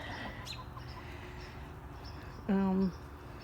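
Faint outdoor ambience with scattered soft clucking of chickens and a brief louder squawk from a chicken near the end.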